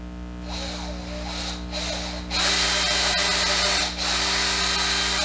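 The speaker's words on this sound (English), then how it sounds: "And we're going to drill holes all the way around." An electric drill bores holes through plywood for a garage paint overspray extractor, with a steady motor whine that rises to a louder, harsher grind as the bit cuts through, briefly dipping before continuing.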